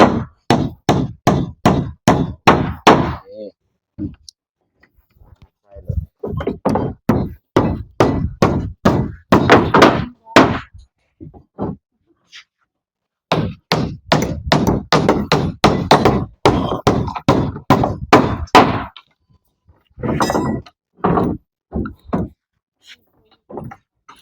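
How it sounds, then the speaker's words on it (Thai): Hammering during house construction: rapid runs of loud, sharp pounding blows in bursts, separated by brief pauses, with a little talk between runs. "ตอกเลย ตอกเลย"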